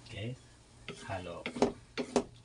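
Sautéed bitter gourd with egg gets stirred in a frying pan, soft scraping strokes over a faint sizzle, with someone speaking throughout.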